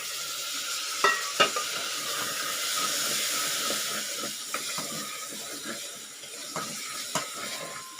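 Peas and potatoes are tossed into a pan of sautéed tomatoes for masala kichdi, bringing a soft continuous sizzle broken by a few sharp spoon taps and stirring knocks, with no talking.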